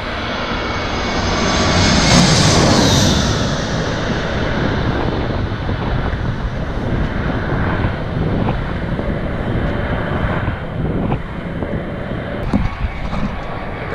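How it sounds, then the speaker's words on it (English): JetBlue jet airliner flying in to land near the USS Midway, a loud sustained engine roar with wind buffeting that swells around the second or third second, then holds as a steady rushing drone. "He's going to be landing on a JetBlue flight."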